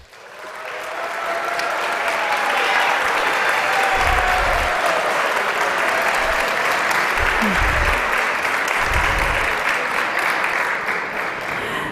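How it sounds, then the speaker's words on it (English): An audience at an athletics awards ceremony claps in sustained, dense applause that lasts about twelve seconds at steady loudness, with a few low thumps mixed in. "Please give a round of applause for Gabe Magabu."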